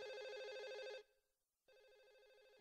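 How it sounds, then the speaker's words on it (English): A telephone rings faintly somewhere in the horror video game Silent Hill 4: The Room, with an electronic trill cycling in two rings separated by a short pause and no one talking. "There's a phone ringing somewhere."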